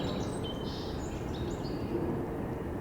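A song sparrow sings at a distance, with thin high phrases drifting over a low murmur of wet open ground.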